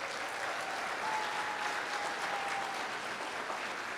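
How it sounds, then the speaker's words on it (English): A student audience at an international night show claps in an even, continuous round of applause for several seconds, heard alone and at moderate distance. "Can I please get one more round of applause for all the ISA officers?"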